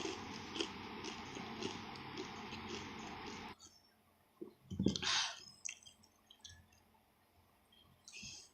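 Crunchy fried spring rolls bitten and chewed, with a loud crisp bite and crackle after a stretch of dense background noise, then quieter chewing sounds, with no talking.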